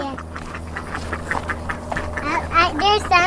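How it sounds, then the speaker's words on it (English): Runner ducks quack repeatedly close by, rising into a loud cluster of calls near the end, with people talking over a low background hum. "I want to see the ducks."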